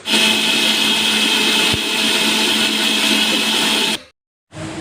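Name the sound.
mixer grinder blending soaked cashews, milk, fruit and pomegranate seeds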